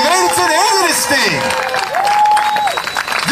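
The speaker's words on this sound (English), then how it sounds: "give yourselves a round of applause, man, for coming out here today" A crowd claps loudly at a fundraiser press conference, with dense applause and a few cheers running the whole way through while a voice talks over the noise.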